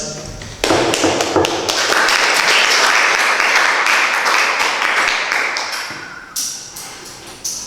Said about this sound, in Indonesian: mari sekali lagi kita beri tepuk tangan untuk acara penutupan PKKMB pada siang hari ini